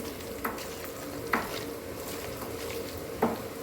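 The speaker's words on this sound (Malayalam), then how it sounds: "അതുകൊണ്ട് ഇതിനെ നന്നായിട്ട് ഞാനൊന്ന് ഇളക്കിയെടുക്കുക" A biryani mixture being stirred in a pot: a spoon scrapes the pot three times, at irregular intervals, over a steady low sizzle. The sound is close and there is no talking.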